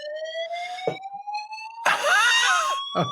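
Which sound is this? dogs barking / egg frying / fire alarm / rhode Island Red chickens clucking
fire alarm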